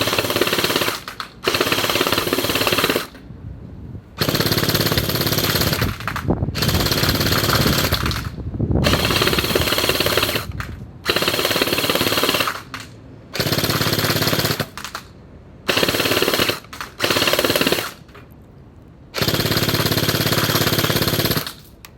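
WELL M401 and JinMing M4A1 toy gel blasters fire in repeated full-auto bursts, a loud buzzing rattle of rapid shots lasting one to three seconds each, separated by short pauses.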